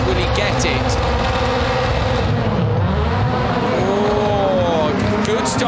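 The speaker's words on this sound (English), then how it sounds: "Good start by Bennett, but on the inside it's Eckstrom versus Timozyanov" Mini and Peugeot rallycross race cars launch from the start of a World RX qualifying race in Germany, engines roaring loudly and continuously with rising gear changes, under a commentator's fast talk.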